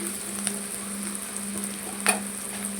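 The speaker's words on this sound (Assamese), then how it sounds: "ভালদৰে এইখিনি মিক্স কৰি ল'ম।" Stirring and frying of egg pulao in a pan, with salt and turmeric just added, in an Assamese-style home kitchen; steady sizzle with scraping spoon strokes and one sharper clink near the end, no voices.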